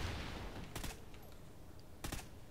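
Two short bursts of rapid gunfire from Call of Duty: Ghosts, fired at bushes, sound faint and brief against a low steady background.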